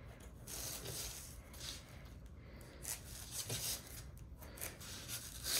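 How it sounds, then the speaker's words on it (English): Scissors snip a small triangle off the corner of fabric interfacing, with a few quiet, close cutting and rustling sounds in short bursts against a near-silent room. "So I just cut the corner off, a little triangle off the corner."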